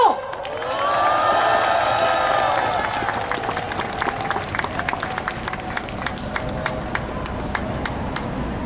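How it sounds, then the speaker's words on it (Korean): An audience at a memorial event gives strong applause for a civilian diver, clapping and some cheering rising quickly and then continuing with sharp individual claps close by. "황병주님께 힘찬 박수 보내주십시오"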